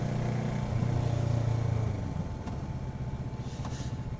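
Motorcycle engine running on a warm-up ride, a steady low hum that eases and thins after a couple of seconds, close by with faint background noise and no talking.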